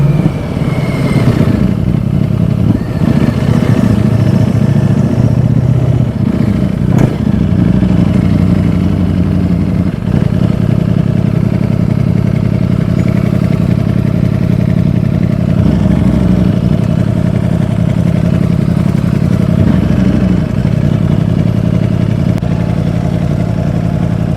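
A 2020 Ducati Streetfighter V4S fitted with a road-legal Akrapovic exhaust runs steadily and loudly close by, a deep rumbling idle with slight rises in revs and a mechanical clatter throughout, no one talking.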